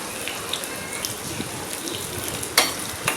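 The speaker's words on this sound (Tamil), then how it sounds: "கருவேப்பிலை ஒரு கொத்து கருவேப்பிலை அதையும் சேர்த்து இது நல்லா வறுக்கணும்" Cashew nuts and curry leaves roast in a pan for millet pongal, making a continuous hissing sizzle with a sudden utensil clatter near the end and no voices.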